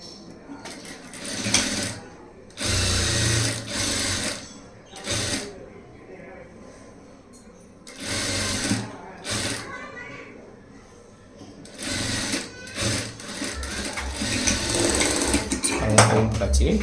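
Sewing machine stitching the front panels of a three-dot saree blouse together, running in several loud whirring bursts that alternate with someone talking between them.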